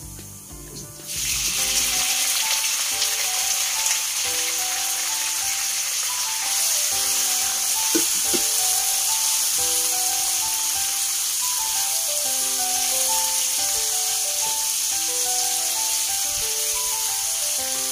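Pork sizzling in a pan with browned garlic for salted shrimp and pork, a loud, steady frying hiss that starts abruptly and continues unbroken, with light rattling and no talk.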